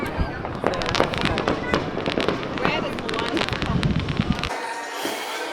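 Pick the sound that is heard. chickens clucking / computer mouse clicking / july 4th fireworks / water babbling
july 4th fireworks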